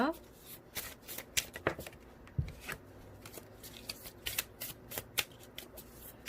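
A deck of tarot cards is shuffled by hand in a quick series of crisp riffles and soft slaps at close range, while someone talks over it.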